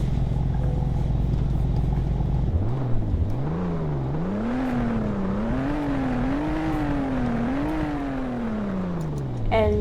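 A car engine in the Roblox game Greenville, fitted with a large muffler, idles then revs repeatedly, its pitch rising and falling in several smooth sweeps before winding down, loud and close.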